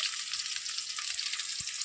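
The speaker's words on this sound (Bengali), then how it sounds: "বাকি মাছগুলো দিয়ে দিয়েছি ভাজার জন্য" Tilapia fish pieces fry in hot oil, a steady dense sizzle that holds evenly throughout, close and unbroken, with no voices.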